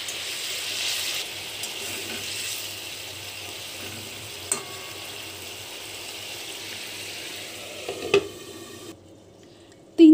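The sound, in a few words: fish and eggplant simmering in boiling gravy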